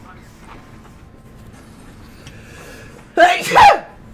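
A single sharp sneeze bursts out close and loud near the end, over quiet room tone with faint game sounds during a Timberborn hard-mode stream.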